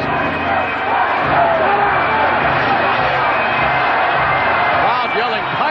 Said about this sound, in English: Crowd yelling, Piper, Piper.